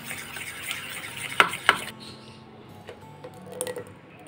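A spoon stirs sugar into wood apple pulp in a bowl for a summer sherbet, giving soft scraping swirls and a couple of sharp clinks against the bowl, then light, faint kitchen ticks.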